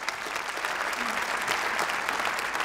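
Audience applause in a Dutch talk-show hall fills the whole stretch as a dense, steady wash of many hands clapping, with no speech over it.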